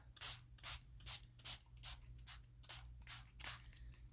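A spray bottle spritzes in quick repeated bursts, about a dozen short hissing puffs at a steady rhythm over a low hum.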